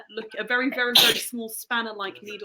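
A single short, sharp sneeze bursts out in the middle of conversation, loud and close, with people talking before and after it.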